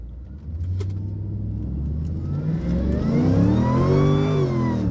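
Mercedes E55 with a supercharged M113k V8 and upgraded 92mm throttle body accelerating hard, a loud close engine drone rising steadily in pitch as it pulls through the revs, with no talk over it.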